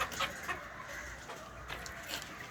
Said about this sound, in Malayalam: ഈ കോഴിയെല്ലാം ഇതിൻ്റെ അകത്തുള്ളതാണ്, എല്ലാം ഇതിൻ്റെ അകത്ത് കയറിയിരിക്കുന്നത് ഫുഡ് കഴിക്കാൻ വേണ്ടി.